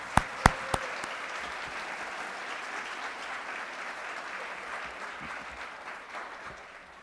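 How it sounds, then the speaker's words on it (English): At a fall nursing pinning ceremony, an audience gives faculty and staff a long, even round of applause, opening with a few sharp close claps before settling into a steady wash of clapping. "at this time I want to give them a big round of applause"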